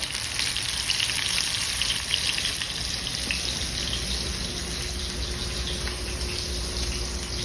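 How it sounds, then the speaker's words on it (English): Steady, bright sizzling of onion and garlic frying in a pan, continuous and close, with a faint tonal hum underneath and no talking. "Now we're sizzling"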